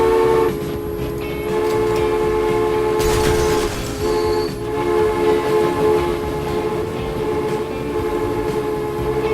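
A game train in Transport Fever rolls past loudly with sustained tonal horn or whistle layers, a burst of hissing around the middle, and steady rumbling wheels; no speech.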